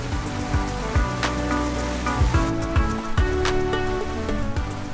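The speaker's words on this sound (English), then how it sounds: "It's raining, we got thunder, we got lightning." Heavy rain falling on a sailboat during a thunderstorm, a steady dense patter with sharp drips and knocks on deck surfaces, continuous and close.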